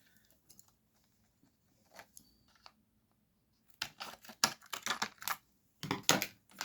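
Scissors cut a piece of card for a fold-back craft card. Several faint snips come first, then a rapid burst of close, crisp cutting clicks in two quick runs, with no talking.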